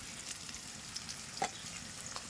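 Ground spices go into chicken frying for a Bengali-style chicken kosha curry, producing a faint, steady sizzle with a few small clicks and stirring taps up close.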